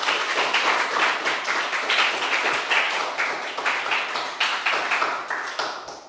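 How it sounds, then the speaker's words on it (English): Audience applause following a project presentation at a Lille demo day, steady dense clapping throughout, gradually thinning and fading toward the end. "Je pense qu'on peut l'applaudir encore une nouvelle fois."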